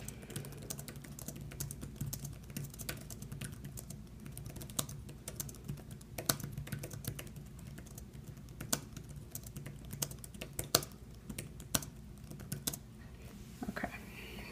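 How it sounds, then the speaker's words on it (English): Fingers typing on a Belkin QODE Slim Style keyboard case for an iPad Air, a steady run of soft, close key taps that continues without a break, with a faint background hum. "I will go ahead and do a typing test on this keyboard."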